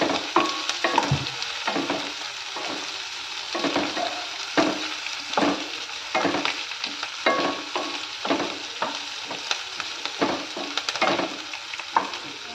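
Onions fry in a pan with curry leaves and slit green chilies for tomato rice, a steady sizzle broken by repeated stirring scrapes and knocks at an uneven rhythm, close and alone without talk.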